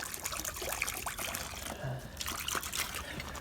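Hot water is poured out for chickens during cold-weather chores after an ice storm, a faint, close trickling and splashing of liquid against rustling background noise outdoors.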